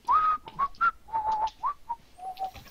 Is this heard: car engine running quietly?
no